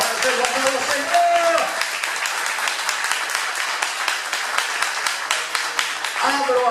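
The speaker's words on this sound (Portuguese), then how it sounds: "Vamos iniciar com uma salva de palmas para o Senhor Jesus Cristo." A church congregation applauds in a sustained, dense round of clapping that runs evenly throughout, with brief voices at the start and end.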